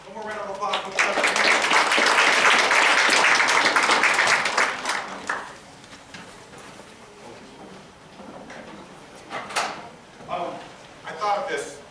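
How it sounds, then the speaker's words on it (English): A crowd claps in a loud, dense burst of applause that swells and then fades out, followed by scattered sounds and a voice speaking. "One more round of applause for Stephanie."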